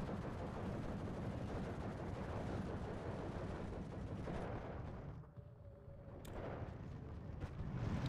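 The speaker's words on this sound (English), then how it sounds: "Artillery hitting in the north" Artillery fire landing in the wargame Steel Division 2: a sustained rumbling roar of impacts that drops off abruptly near the end, followed by one more sharp blast and scattered fainter hits.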